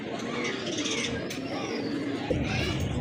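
A pair of lively, good-sized pigeons coos softly and repeatedly, the low murmuring calls steady through the short stretch with some background noise around them.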